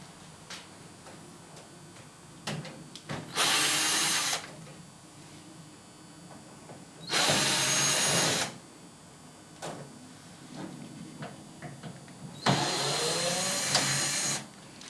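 Whirlpool Diplomat dishwasher side panel screws being backed out with a power driver, three separate whirring bursts of a couple of seconds each, separated by quiet handling and small clicks.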